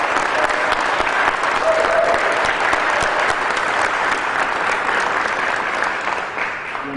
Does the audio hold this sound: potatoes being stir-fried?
no